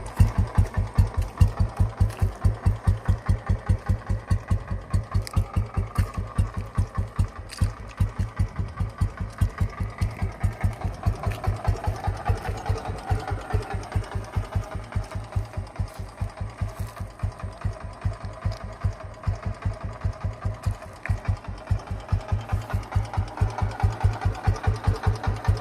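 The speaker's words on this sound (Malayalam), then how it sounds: "നമുക്ക് വണ്ടി ഒന്ന് സ്റ്റാർട്ട് ചെയ്ത് നോക്കാം കേട്ടോ." A Royal Enfield Electra 5-speed motorcycle with an unaltered stock silencer fires up and settles into a steady idle, a close, loud, rhythmic thumping that continues evenly for about twenty-five seconds without any talking.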